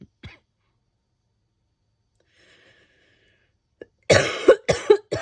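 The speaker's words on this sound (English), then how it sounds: "I keep having some coughing fits" A person getting over a cold coughs: one short cough at the start, then near-silence, then a close burst of rapid, harsh coughs at the end.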